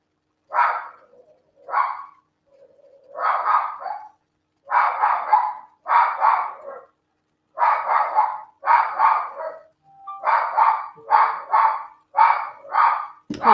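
A dog named Dior barks in a long series of sharp, close, loud barks, single and in quick pairs, separated by short silences, with no other sound behind them.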